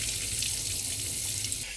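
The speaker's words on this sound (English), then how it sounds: "so they get used to the temperature and the sound of the water" Steady warm water running and splashing continuously from a tap while bathing a dog, close and fairly loud, with no voices.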